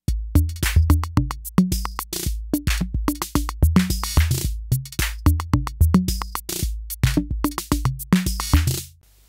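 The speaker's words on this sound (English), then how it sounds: "I hope you could pick up that there was a snare roll in there." An Arturia DrumBrute analog drum machine plays a steady looping pattern of punchy kicks, snares and hi-hats, with quick snare rolls dropped into the groove, loud and alone until it stops near the end.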